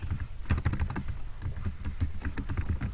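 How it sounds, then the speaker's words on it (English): Rapid keystrokes clatter on a computer keyboard, close and continuous, with irregular bursts of clicks and brief pauses while a document is being typed. "so now I'm going to type introduction,"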